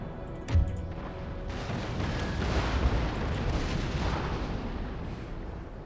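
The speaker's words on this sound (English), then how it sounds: "we're going to have one of the 6th rates shoot chain shot" Warship cannons firing chain shot in a Total War: Empire naval battle: a sharp boom early, then a long rolling rumble of gunfire and explosions sustained to the end.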